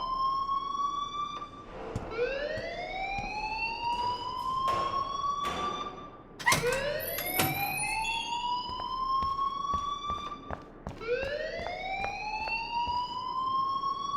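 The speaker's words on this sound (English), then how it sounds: "please turn off that alarm since that's your job" A school fire alarm in the Life Is Strange video game wails in repeated rising sweeps, with a sharp ringing jolt partway through, loud and continuous with no talk.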